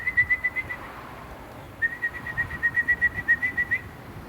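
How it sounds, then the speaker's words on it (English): A Chevy Cruze 1.4 turbo Ecotec engine gives off a squeaky, high whistle in rapid chirping pulses. It comes in two bursts with a short gap between them, steady and alone with no talking. "It's like a squeaky whistle."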